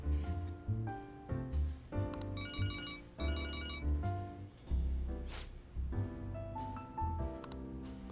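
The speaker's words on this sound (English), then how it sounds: "It's a pretty awkward sounding buzzing effect. I wonder if that's an old model of phone she's got there." Buzzing phone ringtone in the video game Persona 5 Royal, an awkward electronic vibrating buzz in short repeated bursts over game music, fairly loud and alone.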